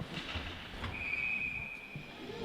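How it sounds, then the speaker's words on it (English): A single sustained referee whistle blast cuts through the hollow crowd and rink noise at a youth ice hockey game, moderately loud and lasting about a second. "So another whistle."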